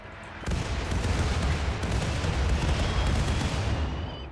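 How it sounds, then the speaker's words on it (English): Cluster mortars fire a volley in the colony game Rimworld, a dense, continuous rattle of booming blasts that starts abruptly and carries on loud, with no voices. "these ones are cluster mortars, which means they're going to shoot a lot of mortars"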